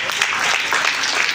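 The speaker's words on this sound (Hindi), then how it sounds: "अपने लिए जोरदार तालियां मारें" Applause from a convention audience, a dense even patter of many hands clapping continuously across the short stretch with no pauses, steady and fairly loud, filling the room.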